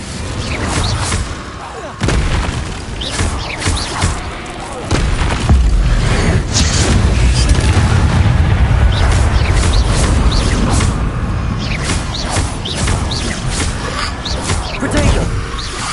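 Incendio fire spells cast in Hogwarts Legacy during a chaotic duel, loud whooshing bursts and booming impacts layered over dense combat noise and music, with a voice calling out spell names.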